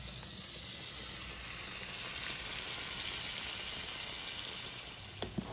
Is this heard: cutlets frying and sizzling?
yes